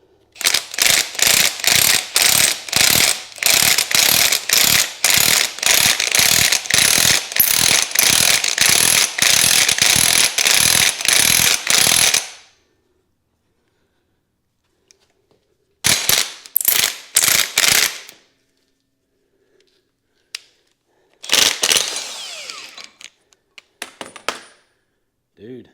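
Impact wrench backing out the crank bolt of an LS 6.0 engine in a C10 Squarebody truck, a long run of rapid hammering bursts, then two shorter bursts after pauses, loud and close.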